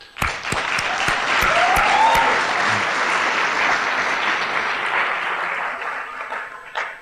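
Sustained audience applause at a Lighthouse school graduation ceremony honoring the teachers, a dense, steady wash of many hands clapping throughout, with a few sharp louder claps early on and a slight fade near the end.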